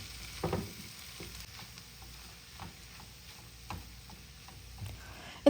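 Boiled macaroni being stirred into vegetables in a pan for a creamy tuna pasta, with soft sizzling and a few scattered scraping taps of the spoon, quiet and close.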